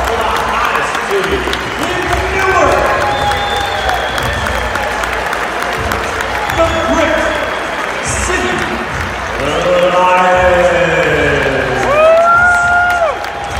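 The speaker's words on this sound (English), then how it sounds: "Round of applause for the hottest city." A crowd at an evening team gathering applauds and cheers loudly, with steady clapping under whoops, shouts and excited voices that swell again near the end.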